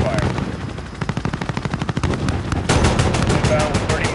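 Rapid automatic gunfire rattles continuously in a Call of Duty: Modern Warfare (2019) campaign battle, dense bursts of shots loud and close, growing heavier and more layered partway through.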